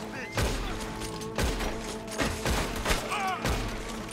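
Scattered gunshots ring out in a Red Dead Redemption 2 shootout, several distinct thumping reports spaced about a second apart, sitting under background game sound and voices.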